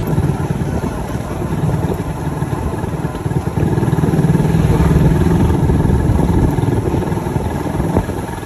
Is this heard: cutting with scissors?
no